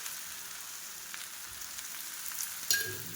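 A little oil trickles around the edge of methi thalipeeth on a griddle, bringing a faint steady sizzle that swells into a brief sharper crackle toward the end, with no one speaking.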